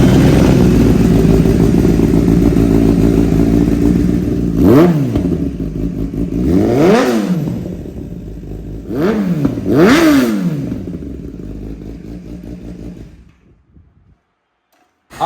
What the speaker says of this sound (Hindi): चलिए स्टार्ट करते हैं गाड़ी को, सुनते हैं गाड़ी का एग्जॉस्ट